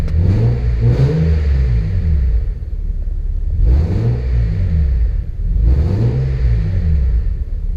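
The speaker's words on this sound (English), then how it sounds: "I can't get over how good this V6 sounds." A 1988 Acura Legend V6 sedan, first driven after sitting ten years, revs and accelerates in repeated surges, its loud, close engine rumble rising and falling about three times with no talking.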